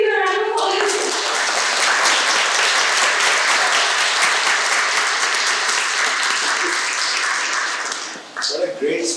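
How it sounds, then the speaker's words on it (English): A large audience at a university talk breaks into sustained applause, dense and loud for about eight seconds before fading, with a voice starting to speak at the end. "Please give a round of applause."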